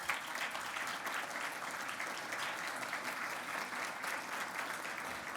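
An audience at a civil society awards ceremony applauds with sustained, even clapping, fairly faint and distant, with no voices over it.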